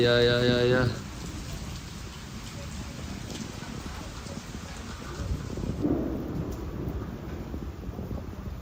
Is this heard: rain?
yes